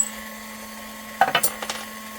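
Lyman Case Trimmer Xpress trimming a brass cartridge case at a reloading prep station: a brief cluster of sharp, whirring scraping bursts in the middle, close up, over a steady electrical hum, with no talk.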